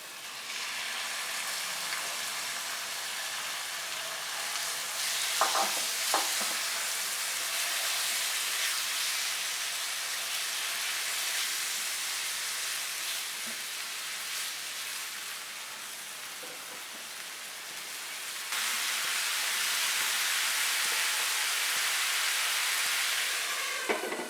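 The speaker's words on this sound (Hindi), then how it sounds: "प्याज हमारी सॉफ्ट हो गई है। अब इसमें ये मैरिनेट की हुई चिकन डालेंगे।" Marinated chicken fries with softened onions in a pan, giving a steady broadband sizzle that holds for the whole stretch and grows a little louder near the end. A few faint utensil taps sound through it, with no talk.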